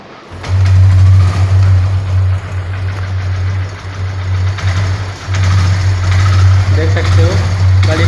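A Hero Splendor BS6 motorcycle engine catches and settles into a loud, steady low idle close by after a brief start, running continuously with slight dips in level.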